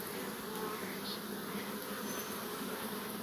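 Honey bees buzz in a dense, continuous hum as they cling to repaired comb fixed to the top bar of a Langstroth hive, heard up close with no talk.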